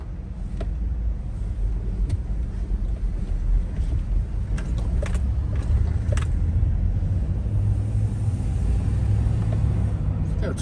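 A turbocharged car engine at a Friday night street gathering in Atlanta rumbles steadily nearby under broad crowd and wind noise, with scattered sharp clicks and pops over a continuous low drone.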